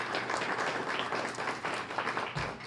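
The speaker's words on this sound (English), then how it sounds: "So let's have a nice round of applause for our meal sponsors." Audience applause for meal sponsors at a school Student of the Month event: a steady wash of many hands clapping together, fairly loud and continuous throughout, with no talking over it.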